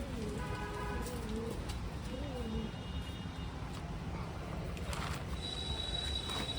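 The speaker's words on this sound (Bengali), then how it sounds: "এই যে বাদ বাকি পায়রা" Pigeons coo softly in a backyard pigeon house in West Bengal. Low, repeated rolling coos sound at a quiet level over a faint hiss of background noise.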